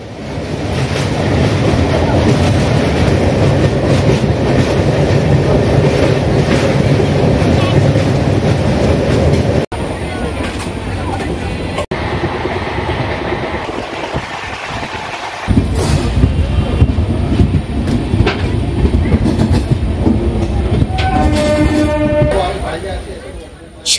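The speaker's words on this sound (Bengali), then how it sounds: "আর এখন আমাদের ট্রেন যে নদীটি পার করছে এটি হচ্ছে রূপনারায়ণ নদী" The 12821 Dhauli Express from Howrah to Bhubaneswar crosses the Kolaghat bridge over the Rupnarayan river, with a loud steady rumble and rattle of the carriages throughout and the tone shifting partway, under a voice speaking.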